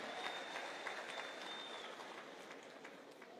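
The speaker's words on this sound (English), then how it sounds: "Can you give them a good applause as well?" Applause for senators at a gathering in Kenya with Bishop Muheria, a steady wash of clapping from a large crowd that holds evenly, heard at a distance and fairly faint, with no voice over it.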